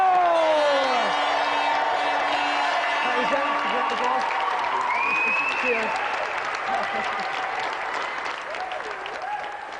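Studio audience applause on the Games Master TV game show, with cheers and whoops: continuous crowd clapping under loud music, voices calling out over it, easing slightly toward the end.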